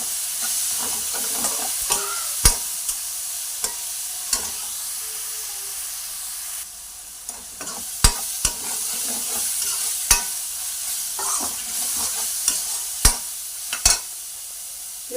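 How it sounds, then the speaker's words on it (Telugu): Onions sizzle and fry in a pan, a steady hiss broken by repeated sharp scrapes and clinks as a utensil stirs them. The sounds are close, with no speech. "ఉల్లిపాయ ఇట్లా మంచిగా ఎర్రగా వేగింది కదండి."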